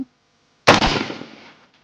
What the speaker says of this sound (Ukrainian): І я виконую перший постріл.